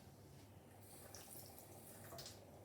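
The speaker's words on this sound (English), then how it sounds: "what I find easiest, because it does start to stick to everything, is just to dampen your hands, just with water." Water from a tap runs softly into a kitchen sink while hands are dampened before patting out potato pizza dough, a faint steady trickle with small splashes near the end.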